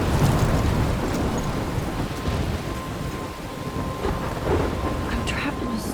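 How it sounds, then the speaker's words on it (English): A heavy thunderstorm batters the scene in the game Life is Strange, a rolling rumble of thunder over dense, steady rain on surfaces, loud and close, fading slightly midway before swelling again. "I'm trapped in a storm?"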